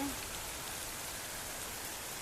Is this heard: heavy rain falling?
yes